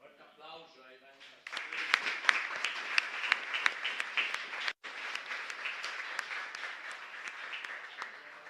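Congregation applause during a live Mass at Parroquia Santa Elena in Villa Aurelia, Asunción, rising after a brief voice into sustained, fairly distant clapping from many people in a reverberant church, with a short break partway.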